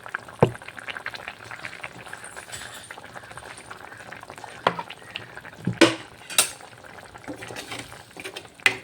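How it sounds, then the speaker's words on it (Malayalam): Tuna fish curry simmers in a pot on the stove as coconut oil goes in, with a soft bubbling bed and sporadic sharp clinks of a spoon against the pot, close but quiet. "ഇനി നമുക്ക് ഇതിനകത്ത് അല്പം വെളിച്ചെണ്ണ കൂടി ഒഴിച്ച് ഒഴിക്കാം"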